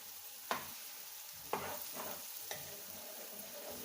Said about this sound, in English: Use my fry pan to fry it